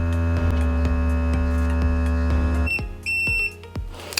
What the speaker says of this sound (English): There we go, and there's the alarm.